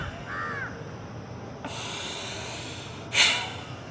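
A forceful breath during a Bhastrika yoga breathing exercise, heard as a close, airy hissing rush through the nose that runs steadily and ends in a sharper, louder snort-like exhale.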